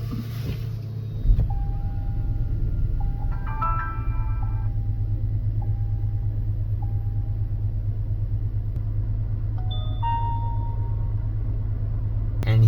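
A car engine cranks and catches about a second in, then settles into a steady low idle rumble. Several short electronic beeps and chimes from a newly installed dash cam sound over it.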